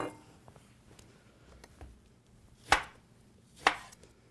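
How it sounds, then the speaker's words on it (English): A knife slices through an apple on a cutting board, with light tapping and then two distinct, crisp cuts about a second apart in a quiet kitchen. "Slice up an apple."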